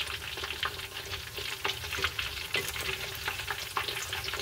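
Shrimp tempura frying in oil, a dense close crackle and bubbling sizzle with steady rapid pops throughout, moderately quiet and with no voices.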